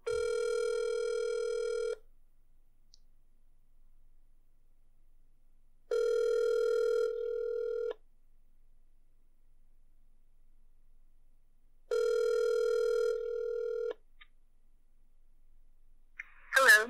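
A telephone rings out three times while calling a company's office line, each ring a steady two-second electronic tone separated by long silent gaps, clear and moderately loud, with a brief click as the call connects at the end.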